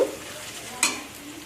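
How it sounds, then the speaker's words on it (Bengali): Sliced onions frying in oil to make crisp birista for biryani, a continuous soft sizzling hiss with one sharp scrape or stir burst partway through. "এখানে পেঁয়াজ ভাজা করতে বসেছি বেরেস্তা করব"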